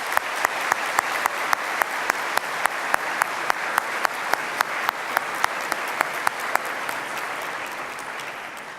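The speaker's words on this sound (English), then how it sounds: "please join me in a round of applause to recognise the support of those" Graduation ceremony audience at a university giving a sustained round of applause, dense and even clapping with a few sharper claps standing out, slowly easing toward the end.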